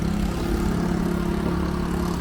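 Small scooter engine puttering past a mountain railway station at Szklarska Poręba Górna, a steady low droning motor hum holding close and fairly loud throughout with no speech.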